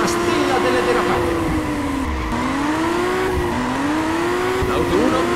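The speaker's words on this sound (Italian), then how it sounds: "Gente, guardate e imparate come si derapa dall'auto 7" Car drifting in Juiced 2 with long, wavering tire squeals over a roaring engine, the pitch sliding up and down through repeated slides, close and loud, with a commentator speaking over it.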